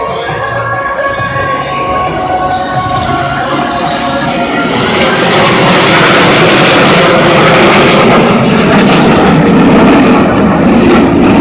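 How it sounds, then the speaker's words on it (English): Aircraft roaring past at an air display with solo pilots performing, a loud continuous engine rumble and rushing noise that swells over several seconds, heard close and alone. "roll their aircraft to 90 degrees angle of bank and push forward on the stick"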